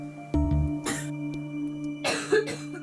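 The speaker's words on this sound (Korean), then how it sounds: "그날 밤 잠들었다가도 기침이 시작되면" Two bursts of harsh coughing, close and fairly loud, separated by a short pause over a steady low electrical hum.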